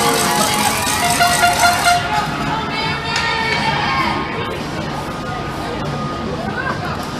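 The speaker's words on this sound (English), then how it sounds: "Look at the classy Boston fans booing the kids coming off the ice." Crowd noise at a youth PeeWee hockey semifinal in an indoor rink, a dense steady roar of many voices with horn-like tones as Boston fans boo kids leaving the ice; some shouting rises in the first few seconds.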